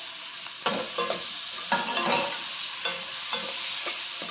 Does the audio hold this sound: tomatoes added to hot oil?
yes